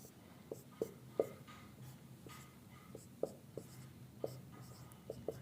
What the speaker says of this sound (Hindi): एरोमेटिक में जब मैं लिख रहा हूँ तो मैं सिंपल इसको लिख देता हूँ